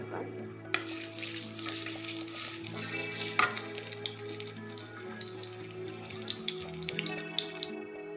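Oil heating and sizzling in a wok after fish has been fried in it, with a steady broadband crackle, occasional louder pops and faint kitchen clatter; no one talks.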